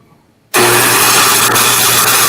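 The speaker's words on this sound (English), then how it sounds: "let's see if the electric start will turn this over." A Stihl BR600 backpack blower engine catches on its electric start after half a second of quiet, bursting into a loud, steady, close-up running roar.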